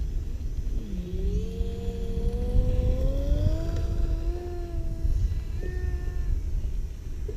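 Electric motor of a Craycle Stick RC plane on a fresh battery: a tonal whine that climbs in pitch as throttle rises, holds steady, then a brief higher buzz, over outdoor wind rumble.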